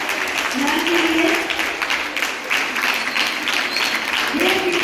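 Steady crowd applause at a college annual sports meet prize distribution fills the clip, with a voice speaking over the clapping.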